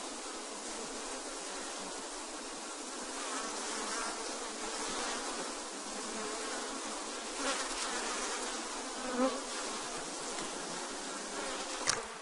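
Honey bees swarm loudly in an opened beehive during feeding work, a dense steady buzz of many insects close by with small bumps and knocks, no voices.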